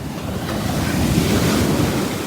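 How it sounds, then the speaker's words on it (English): Ocean waves surge and wash onto Juniper Beach in a continuous, loud roar mixed with buffeting wind noise on the microphone. "You can see through the waves."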